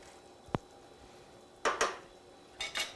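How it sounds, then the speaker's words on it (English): A spoon stirs food in a cooking pot, giving one sharp knock against the side followed by two short scraping, clattering bursts, close and fairly quiet with no talking. "Give it another little stir."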